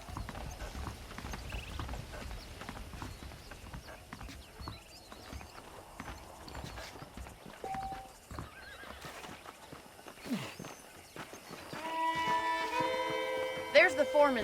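Horses' hooves clip-clop steadily with an occasional whinny from saddled horses in the Red Dead Redemption video game, set against a busy background and low in the mix.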